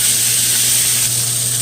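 Vegetables and beef sizzle steadily in a hot pan for soup with beef and deer meat, a close, constant frying hiss with a faint low hum beneath and no voices.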